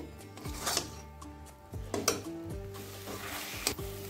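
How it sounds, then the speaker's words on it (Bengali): Banana stem paste sizzles in hot mustard oil in a pan as a utensil stirs and scrapes it in repeated strokes, with occasional louder clanks against the pan over a steady close frying hiss. "থোরটা নেড়ে নেড়ে এইরকম একটু শুকনো করে ফেলতে হবে।"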